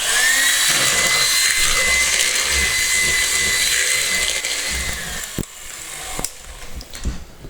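A handheld electric mixer whirs steadily while beating brownie batter with raspberries, a loud continuous motor whine with scraping texture, then it cuts out near the end into a few clanks and knocks.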